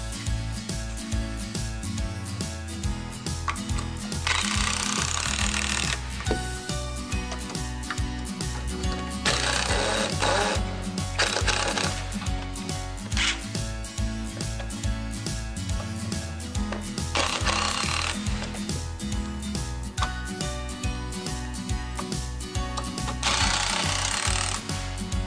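A power drill drives screws into the wall of a 4x6 Amish-built chicken coop. It makes loud, close, repeated rattling bursts, with a strong whining spell every few seconds and no voices.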